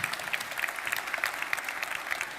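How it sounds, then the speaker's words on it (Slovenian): Applause from an audience at an innovation day ceremony, a steady dense patter of many hands clapping throughout, moderately close and even in loudness. "Prosim, aplavz."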